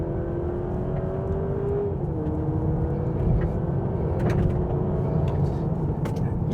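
A 2023 Honda Accord Hybrid Sport pulling away in Sport mode, its engine a steady droning hum heard from inside the cabin that climbs in pitch, dips briefly as the revs shift, then keeps rising with light road noise.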